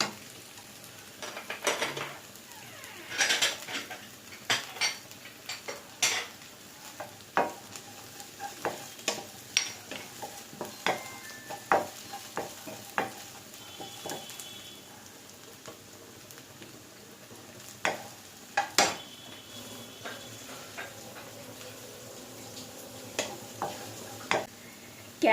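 Chopped carrots and beans stir-fry in a pan for fried rice. A soft sizzle runs under repeated scraping and clinks of a spatula against the metal pan, with no talk.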